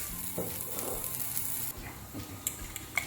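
A dash of oil added to melted butter sizzling in a pan for shrimp fried rice: a quiet, steady frying hiss with a few faint ticks and clicks near the end, no talking.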